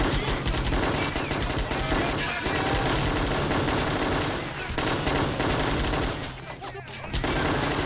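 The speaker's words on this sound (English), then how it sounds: "Take the shot. Look at the recoil on that." Sustained machine-gun and rifle fire in the Army Men of War strategy game during a city battle, dense rapid bursts rattling almost continuously at loud, steady volume, with a brief dip near the end.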